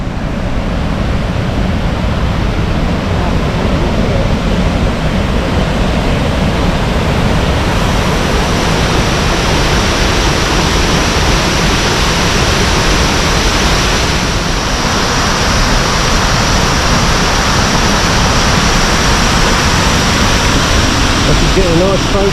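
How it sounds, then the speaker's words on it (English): A waterfall on the Four Waterfalls walk in the Brecon Beacons, in winter, gives a constant, loud, enveloping rush of falling water that holds steady for the whole stretch. "Just walking down to the first waterfall then, guys. I can hear it."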